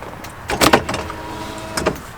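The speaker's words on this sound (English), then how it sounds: "It has electric windows." Electric power window motor whirring briefly in a custom 1929 Ford Model A hot rod, two short close bursts with a quiet pause between.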